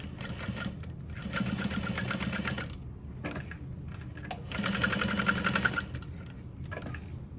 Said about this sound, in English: we're gonna fold this in half and do 2 lines of stitching to secure all of that in place